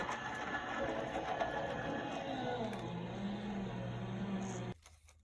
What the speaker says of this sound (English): run that through your die cutting machine